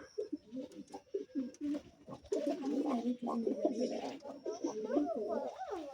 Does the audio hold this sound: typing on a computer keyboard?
no